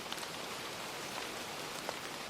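Steady rain falls at night, a soft continuous hiss of drops spread evenly and quietly throughout, with no voices.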